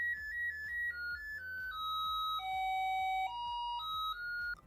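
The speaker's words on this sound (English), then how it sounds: "and the doorbell mode plays a tune." A presence sensor's alarm in doorbell mode plays a short electronic tune of stepped, sustained tones that fall and then rise again, loud and clear, with no voices.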